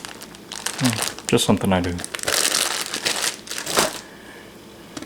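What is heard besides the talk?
plastic bag being squeezed to push the air out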